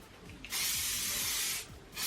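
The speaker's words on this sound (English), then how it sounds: "I'm now gonna hairspray it." A small aerosol can of strong-hold hairspray hisses onto pinned curls in one steady, bright burst of just over a second, close and fairly quiet, with faint handling noise before and after.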